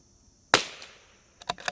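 A single sharp rifle shot from a CZ 457 rimfire rifle rings out close by, followed by a short decaying tail, then a few quick metallic clicks as the bolt is cycled.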